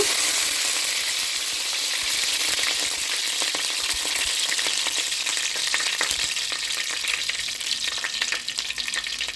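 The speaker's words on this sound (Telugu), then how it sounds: "మనం సన్నగా చీల్చి పెట్టుకున్న పచ్చిమిర్చి వేసుకొని ఇవి ఫ్రై చేసుకోవాలండి" Fenugreek seeds, curry leaves and green chillies frying in hot oil for an Andhra-style raw mango fish curry: a loud, dense, continuous sizzle and crackle with occasional faint stirring clicks, without speech.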